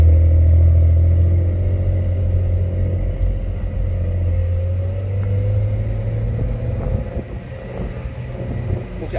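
A Porsche 911 (992) cabriolet drives top-down through sunny Seoul streets, its engine a steady low rumble with wind noise rushing over the open cabin and no talk.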